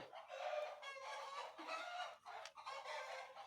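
Old laying hens cluck and squawk in a faint, busy cluster, several birds calling over one another in short bursts with no talk.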